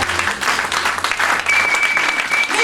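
Church congregation applauding during a French-language sermon: dense, steady clapping from a crowd filling the whole stretch at even loudness.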